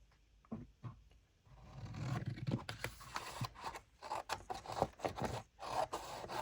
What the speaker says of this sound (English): I'm going to take my scissors, and I'm just going to